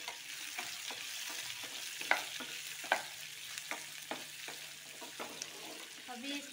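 Chopped onions fry in a pan for a king oyster mushroom masala, giving a soft, steady sizzle broken by repeated scraping strokes of a spoon stirring them.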